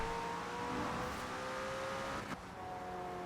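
A 2018 McLaren Senna's engine in Forza Horizon 4 drones steadily at a sustained pitch, with a brief abrupt shift near the end before the tone resumes at a slightly lower level.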